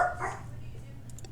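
A puppy yips and barks briefly at the start, fairly close, then fades under a low steady background hum.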